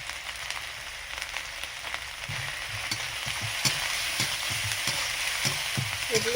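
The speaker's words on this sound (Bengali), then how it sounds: "এবারে ভালো করে নাড়িয়ে নিচ্ছি।" Chili powder and spices sizzle in a pan for a hilsa and eggplant curry, with a steady crackling hiss and repeated scraping strokes of a spoon stirring close by.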